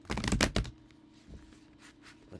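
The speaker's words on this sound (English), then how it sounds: "I'm going to shuffle these because that's too many." A deck of Nordic oracle cards being shuffled by hand, giving a quick burst of riffling paper at the start that fades into a few faint, scattered card taps, heard up close with no talking.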